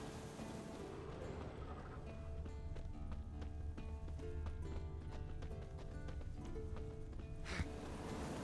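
Warhorse hooves clip-clopping in The Witcher 3: Wild Hunt, a quiet, steady trotting rhythm over a soft ambient game background with no voices.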